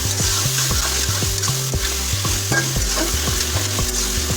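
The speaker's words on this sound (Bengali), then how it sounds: "এখন এই মুরগির মাংসগুলোকে আমরা প্রায় 7 মিনিট ধরে ভাজা করে নেব" Chicken pieces fry in a kadai for chicken ghugni, a steady loud sizzle broken by regular scraping strokes of a spatula stirring the meat, with no talking.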